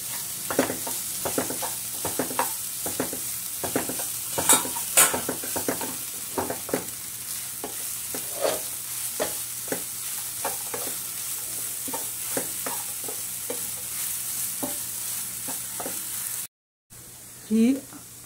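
Puffed rice chivda frying in a pan with tomato, peanuts and spices is stirred in quick repeated scrapes over a steady sizzle, close, with a brief break near the end.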